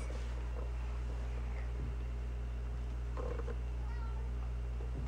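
A cat gives a few quiet meows, spread out and somewhat distant, under a steady background of wind and low hum.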